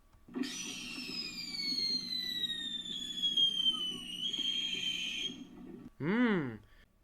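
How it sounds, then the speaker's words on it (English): A high whistle glides slowly downward for several seconds over faint background murmur, followed by a short, warbling rising-and-falling whistle. "Sounds like our fireworks or firecrackers shooting in the air"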